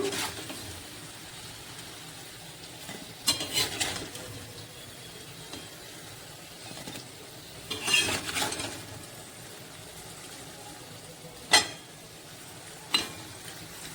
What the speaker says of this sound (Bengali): আলু গাঠি আমি ভালো করে ভেজে তুলে নিলাম